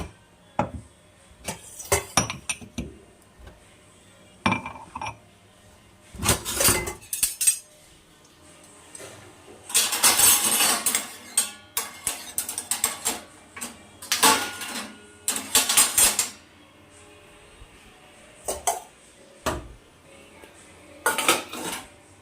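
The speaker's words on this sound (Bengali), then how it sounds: "এখন কাপ টাপ গুলো গুছিয়ে নেবো" Cups and dishes are gathered and stacked in a home kitchen during a power cut, giving close, irregular clinks and clatters of crockery and cutlery in short bursts between quiet pauses.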